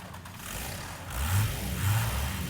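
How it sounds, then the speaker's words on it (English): A car engine starts in an audio drama and swells into a loud, rumbling roar with two surging revs, heard alone without any talk. "I start the engine, which roars loudly."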